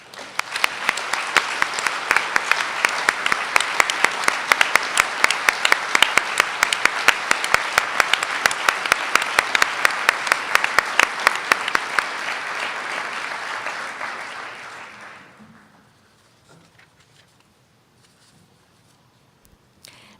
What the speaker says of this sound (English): please stand so that we can acknowledge and thank you with a round of applause